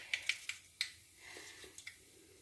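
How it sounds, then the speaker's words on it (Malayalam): Mustard seeds pop in hot oil while cooking an egg curry, a handful of sharp, faint crackles spaced irregularly over a quiet background. "കടുക് പൊട്ടുന്നുണ്ടെ നമുക്ക്"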